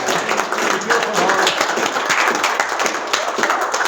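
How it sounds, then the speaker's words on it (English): Applause from an audience at a community gathering for a musician who performed, a dense steady patter of many hands clapping throughout, with a faint murmur of voices underneath. "let's give her another round of applause for that"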